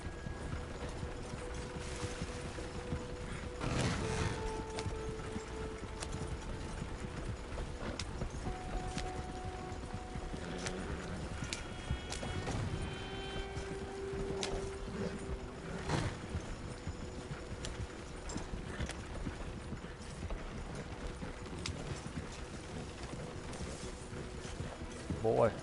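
Steady hoofbeats of a horse-drawn wagon in a video game clip-clop along with creaking wagon mechanisms, under faint background sounds and occasional voices.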